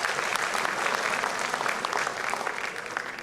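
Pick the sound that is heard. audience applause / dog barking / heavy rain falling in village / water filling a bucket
audience applause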